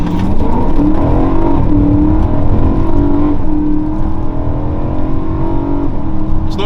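A BMW E92 M3 with its V8 under a hard pull, the engine roaring loud and steady close by as revs climb in repeated sweeps, with brief dips between gears.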